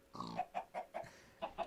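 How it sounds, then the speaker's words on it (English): Faint grunting oinks from a pig in the video game IndieCraft, a series of five or six short, evenly spaced snorts at low volume with nothing else audible. "Anyhow, there's a pig down there. Hello, piggy."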